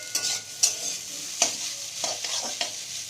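Chow noodles sizzle in a hot pan while being stir-fried, with a steady frying hiss broken by several sharp scraping stirs of the utensil against the pan, close and fairly loud.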